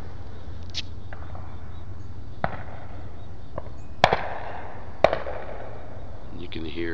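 Corn poppers (propane bird-scare cannons) near a farm on Delaney Road in Trempealeau bang out sharp, loud reports at irregular intervals, a few close blasts standing out from smaller distant pops over steady background hum.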